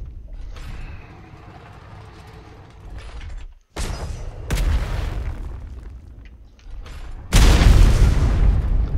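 Heavy weapon fire and booming explosions in the Atlas video game during an assault on a forward operating base, with several loud blasts and rumbling, mechanical creaking between them, and no talking.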